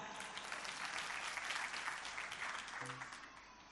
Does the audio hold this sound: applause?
yes